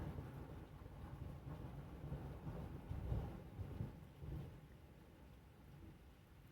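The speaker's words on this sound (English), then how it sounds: "Nice bit of thunder, no lightning." Low, rolling thunder from a storm rumbles steadily and fairly loud, swelling around the middle before easing back, with wind buffeting the microphone throughout.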